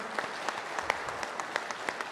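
Applause for the chief minister at the Amar Ujala Samvad 2025 event, a steady crowd clapping with a few sharper individual claps standing out near the microphone.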